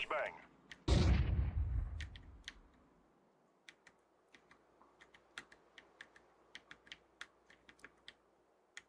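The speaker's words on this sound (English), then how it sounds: "Throwing a flashbang." A flashbang grenade goes off in a first-person shooter video game with one loud, sharp burst that rings briefly and fades, followed by sparse clicking keystrokes.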